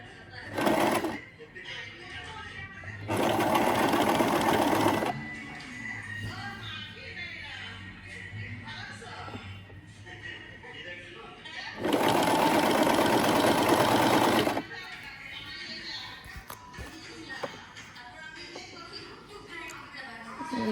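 A household sewing machine runs in two bursts while blouses are stitched, each a few seconds of steady whirring, with someone talking quietly in the pauses between.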